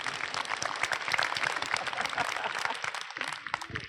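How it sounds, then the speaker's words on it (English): An audience at a WordCamp Asia Q&A session breaks into applause, a dense wash of many hands clapping close and loud, fading slightly near the end. "A round of applause for him."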